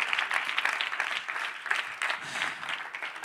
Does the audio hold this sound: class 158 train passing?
no